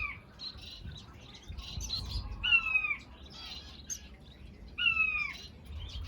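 Small finches, including a female zebra finch, chirp and call in an outdoor aviary, with repeated short tweets and a couple of sharper rising calls over a low background rumble.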